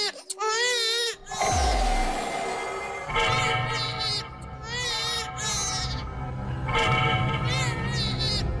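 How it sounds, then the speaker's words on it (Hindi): An infant cries loudly and continuously in wavering wails with short breaths between, close and prominent, with faint background voices. "बच्चे की रोने की आवाज"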